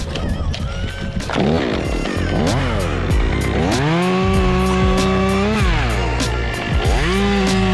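A chainsaw fells a tree near a giant white oak: the engine revs up and down in loud, close surges, dipping to idle between cuts, with no talking.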